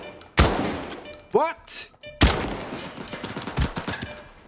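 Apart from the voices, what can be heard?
shotgun gunfire in the video game S.T.A.L.K.E.R. 2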